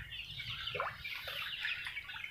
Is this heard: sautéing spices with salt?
no